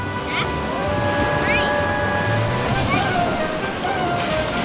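Strong sea waves wash continuously up a beach toward a sand castle, a steady loud roar of surf mixed with wind buffeting the microphone and faint voices in the background.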